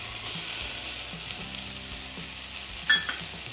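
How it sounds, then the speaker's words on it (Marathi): Finely chopped tomato goes into onions already fried red in a pan for whole masoor curry, giving a steady close sizzle with light stirring scrapes and a brief louder clatter near the end. "आता आपण त्याच्यामध्ये 1 बारीक चिरलेला टोमॅटो टाकून घेऊया।"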